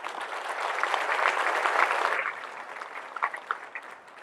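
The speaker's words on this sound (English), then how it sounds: "Round of applause for that" A small audience gives a round of applause that swells for about two seconds, then thins to a few scattered claps.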